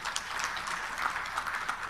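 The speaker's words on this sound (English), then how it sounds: "Let us give a big round of applause for the excellent organization" Audience applause at a democracy stakeholders' conference in Arusha opened by President Samia: a short, steady burst of many people clapping, even and moderately loud throughout.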